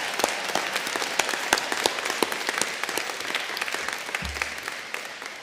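A graduation ceremony crowd in a hall applauding its families and friends, a dense sustained wash of clapping with scattered louder claps, filling the whole clip.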